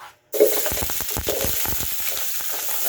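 Onion sautés in a hot pan with a steady, close crackling sizzle that starts abruptly after a brief silence and continues with dense popping, no talk over it.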